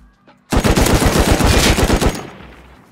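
A loud, sustained burst of rapid automatic machine gun fire in a first-person shooter set on an oil rig, about a second and a half of dense shots that end abruptly and leave a short echoing tail.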